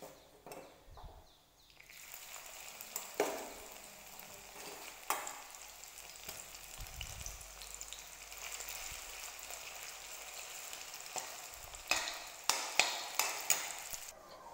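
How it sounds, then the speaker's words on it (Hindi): Sweet corn kernels frying and being stirred in a pan, a steady soft sizzle with scattered clacks from the spoon, growing busier toward the end with a run of sharper scraping taps. "ऐसे ही हम अपने सभी कॉर्न को फ्राई कर लेंगे।"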